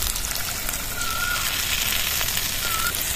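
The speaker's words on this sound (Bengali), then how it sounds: "আবারও কষিয়ে নেবো মশলাটা ভালো করে" A masala of green chilli, ginger-garlic paste, poppy seed paste and cashew paste is stirred over heat, producing a dense, steady hiss of sizzling with faint scraping, close and even throughout.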